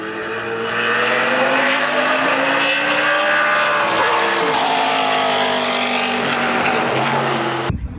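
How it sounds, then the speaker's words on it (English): A race car engine runs during a Mid-Ohio test, a loud, close, sustained drone whose pitch slowly shifts and rises before cutting off sharply at the end. "Engine's running fine."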